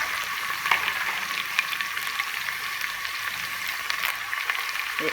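Curry leaves crackle and sizzle steadily in hot oil in a home kitchen, a continuous close frying hiss with small pops throughout and no talking.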